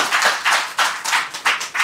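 Audience clapping at a Telugu religious discourse, a brief burst of steady rhythmic handclaps at moderate level with no voices over it.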